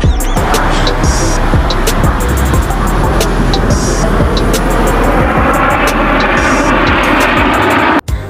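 An Air Force airplane flying at a UAE National Day airshow in Fujairah. A loud, continuous jet roar fills the whole stretch and cuts off abruptly near the end.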